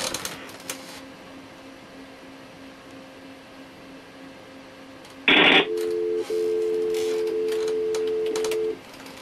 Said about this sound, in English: That's the sound that you will hear when the call is first being intercepted.